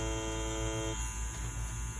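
Steady electric buzz of a Mummy wireless tattoo machine running at 7.5 volts, a continuous close drone with a faint hum underneath and no talking.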